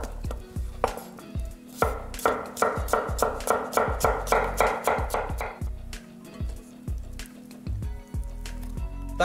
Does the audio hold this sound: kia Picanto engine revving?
no